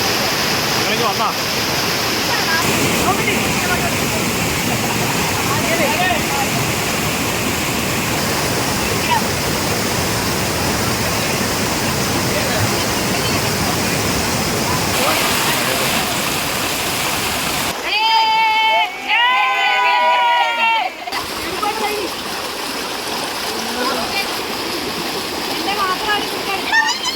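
The Thonippara waterfall at Nellettil roars in a loud, continuous rush of falling water, briefly broken midway by a voice and a quieter moment before the rushing returns.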